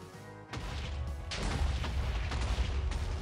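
A block of TNT detonates in Minecraft, a sudden heavy boom that bursts out of near quiet, followed by a second crashing blast and a rumbling tail of debris.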